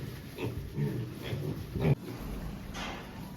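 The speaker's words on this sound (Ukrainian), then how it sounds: "Ось у нас поросятка, прокололи ми вже їм третій день." Piglets in a heated pigsty grunt and oink in short repeated bursts at close range, several squeaky calls overlapping a low background rumble, with a thump near the middle and no clear talking.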